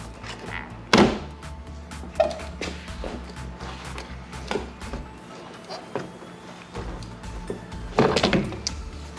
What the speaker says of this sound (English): Now we gotta pull up on the door trim over here.